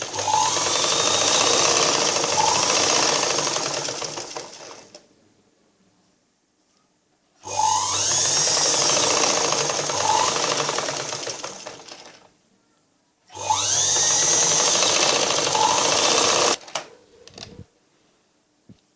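A sewing machine stitches blouse fabric in three fast, steady whirring runs. The first two last about five seconds each and the last is shorter, with quiet pauses between them and no talk.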